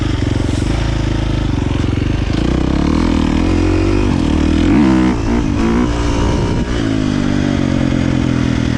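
A KTM 350 XC-F dirt bike with a tuned ECU accelerating through the gears, its engine loud and close, rising in pitch, dropping briefly at shifts, then climbing again continuously.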